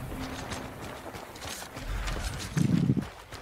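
Horse hooves clopping in a virtual reality exploration video game, a short burst of steps that swells louder near the end over a busy background of game sound.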